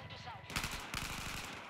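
Rapid bursts of Battlefield 4 gunfire, several quick shots in a row, loud and close, with background game noise throughout.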